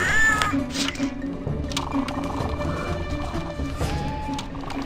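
A cat meows in the video game No One Lives Forever 2, several short, distinct mews over a busy game ambience with occasional clatter.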